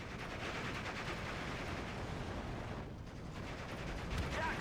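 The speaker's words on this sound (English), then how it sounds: "Vickers team's getting suppressed by MG42 fire" MG42 machine gun fire in the wartime strategy game Steel Division 2 rattles in dense, rapid bursts amid other battle noise, moderately distant and steady throughout.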